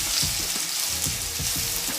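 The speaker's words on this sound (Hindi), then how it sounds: "ये लीजिए, चलिए फ्राई करते हैं थोड़ा सा।" Crushed garlic and ginger fry in hot oil in an iron pan, a bright, steady sizzle with a few soft scraping stirs. Close and continuous, with no voices.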